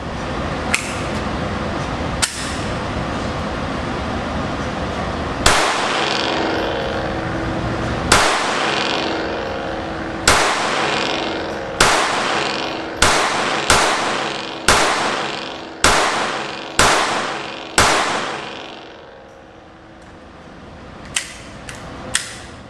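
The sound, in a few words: gunshots from Glock 44 handgun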